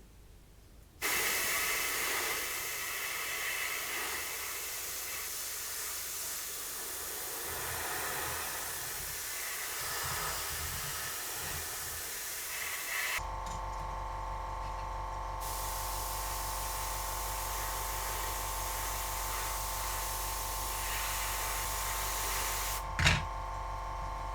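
Airbrush spraying Tamiya buff paint through splatter templates onto a 1/32 Avro Lancaster model, a steady close hiss that starts abruptly and holds continuously, shifting to a smoother, more even tone partway through.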